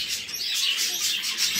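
A parrot gives rapid, high, shrill chirps and tweets in a continuous close-up stream with no pauses.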